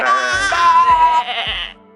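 A voice imitates sheep bleating during a French children's story reading, a long wavering bleat followed by a couple of short breathy ones as it trails off.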